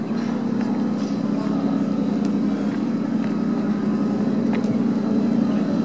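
BMW drift car at the French drift championship at Le Castellet, a steady distant engine drone held at one level with faint crowd murmur, a few brief sharp knocks, and no clear talk.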